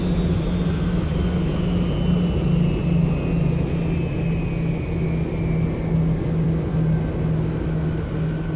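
Engine two shutting down on a Southwest Boeing 737-800 in Roblox Flightline, a loud steady jet roar with a low hum and a high whine slowly falling in pitch, no voices.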